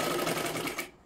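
A sewing machine runs steadily, stitching a tuck into a boat-neck katori blouse, a close, continuous whir that stops abruptly just before the end.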